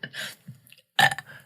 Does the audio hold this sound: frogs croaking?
no